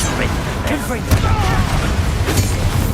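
The Confringo blasting spell in Hogwarts Legacy goes off in a noisy duel, popping bursts and booms amid continuous clatter, with voices speaking over the action.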